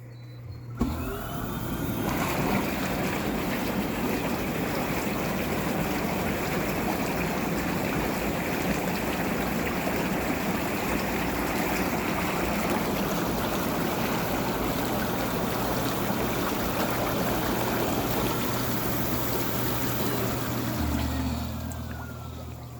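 Air bubble jets in a Coleman SaluSpa inflatable hot tub run continuously, a loud, steady roaring hiss of churning, bubbling water with a motor hum underneath, starting abruptly and cutting off near the end.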